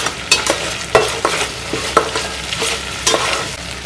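Spices and five green chillies fry in a pot as a spoon stirs them, with steady sizzling broken by regular scraping strokes, close and loud, with no voices.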